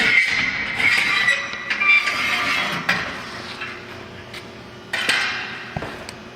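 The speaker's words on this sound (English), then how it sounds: "now you auger the ashes out" An auger scrapes ash out of a Heatmor outdoor wood furnace, producing continuous metallic grinding and clanking with scattered sharp knocks, close and fairly loud.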